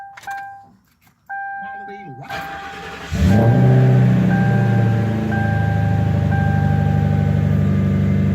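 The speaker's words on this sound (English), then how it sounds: "now we start the engine" A 2002 Mercury Grand Marquis with its door chime pinging and the ignition clicking before the engine cranks and catches, then settles into a loud, steady idle close by while the chime keeps sounding and a voice talks.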